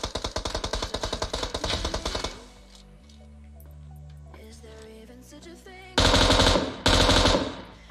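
Rapid automatic gunfire from the PUBG Mobile battle game sounds as loud bursts at the start, then comes a quieter stretch of game tones and distant shots, and two more sharp bursts close it out.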